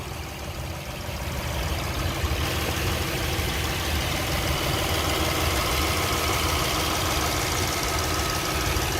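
A Toyota car engine idles nearby, a steady low rumble with faint ticking, even and unbroken throughout with no voices.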